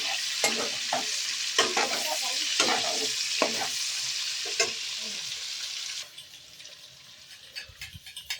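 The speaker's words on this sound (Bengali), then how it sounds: "Chilli sauce, tomato sauce, soya sauce mix কর ভালো করে।" Spoon stirring chilli sauce, tomato sauce and soy sauce together in a bowl, a close run of scraping, sloshing strokes with quieter, sparser clinks toward the end.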